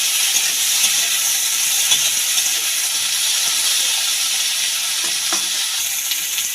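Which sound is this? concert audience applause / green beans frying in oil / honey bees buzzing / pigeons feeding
green beans frying in oil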